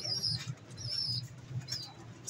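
Pigeons kept by a Filipino bird keeper coo in soft low pulses close by, mixed with quick bursts of wing flapping, while a person talks quietly in the background.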